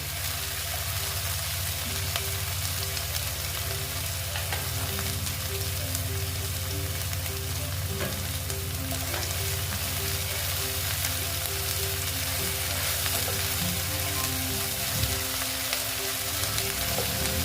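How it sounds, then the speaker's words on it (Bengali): Onion paste frying in oil for katla fish kalia: a continuous close sizzle with a low, steady hum beneath it and a few small stirring bumps near the end. "পেঁয়াজ বাটা দিয়ে তেলটা একটু ভাজিয়ে দিলাম দিয়ে আমি এটাকে ভালো মতো ভেজে নেবো"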